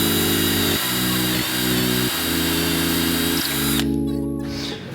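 A power drill runs steadily in close-up, boring dowel holes into wooden pieces for a shoe rack, with several short pauses and restarts in its whine and a brief drop-off near the end.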